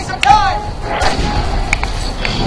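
A shotgun in Resident Evil 6 fires with a heavy thump, followed by clacking pump and reload noises and another sharp crack, all loud and close, while someone speaks over it.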